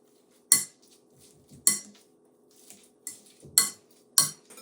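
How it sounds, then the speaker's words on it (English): Potatoes and kale are mashed in a pot, with sharp metal clanks of the masher striking the bottom at irregular intervals, about five strong hits with softer squishy scraping between them, close and without talk. "So I'm going to go ahead and mash up my potatoes and kale."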